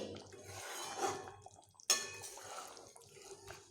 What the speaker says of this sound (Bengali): এইবার আমি এইভাবে একটু নেড়ে নিচ্ছি